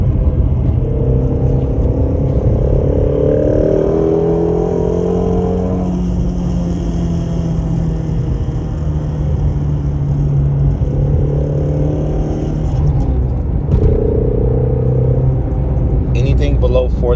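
A Ford Mustang GT350R with its exhaust open revs in third gear around 3,500 to 4,000 RPM. The loud, close engine drone climbs and falls in two sweeping pulls with a throaty rumble between them.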